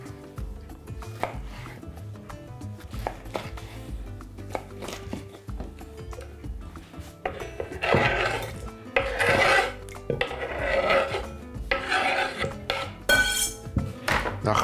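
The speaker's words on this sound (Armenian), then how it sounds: "Սա կտրում ենք հարմար, ուտելու համար հարմար չափի, այսպես շեղակի" A knife slices diagonally through boiled green beans on a cutting board, giving repeated crisp chopping strokes and scraping that grow louder and denser toward the end, with no talking.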